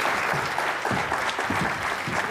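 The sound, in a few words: studio audience applause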